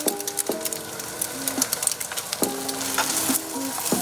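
Omelette ingredients frying in a hot pan, a bright steady sizzle broken by a few sharp clinks and scrapes of a utensil against the pan.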